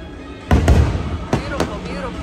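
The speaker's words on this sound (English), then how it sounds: "You can see the fireworks." Fireworks at Magic Kingdom burst in several booming explosions, two close together followed by two more, loud and moderately distant, with crowd noise and some talking in the background.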